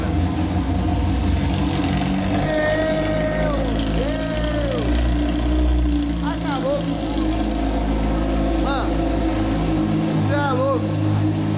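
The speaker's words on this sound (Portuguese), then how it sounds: "vamos tentar ligar a moto aqui" A Honda CB1000 motorcycle engine idles loudly and close by with a steady, unbroken rumble, while voices talk over it throughout.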